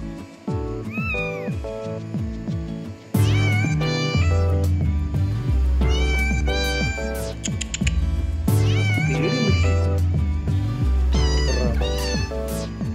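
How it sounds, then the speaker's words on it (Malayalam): Two look-alike domestic cats meow loudly and repeatedly, their drawn-out, wavering cries overlapping at close range, sometimes rising toward a caterwaul, with no talking. "ഇതൊരേപോലത്തെ രണ്ട് പൂച്ചയാണ്"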